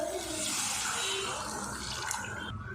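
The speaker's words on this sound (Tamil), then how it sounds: "நம்ம குழம்புக்கு தேவையான தண்ணி ஆட் பண்ணிக்கலாம்" Water pours steadily into a cooking pot of brinjal curry, a continuous close splashing rush that runs unbroken before cutting off at the end.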